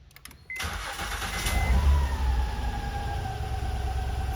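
A car engine starts via a newly self-installed push start button: a brief click, cranking, then it catches, revving up loudly before settling into a steady idle hum.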